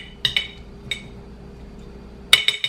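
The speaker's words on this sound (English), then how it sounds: "I'm just going to put it on top and kind of stir it around in there" A metal spoon clinks against a glass jar while stirring prepared horseradish, with a few sharp, close taps in small clusters separated by quiet pauses.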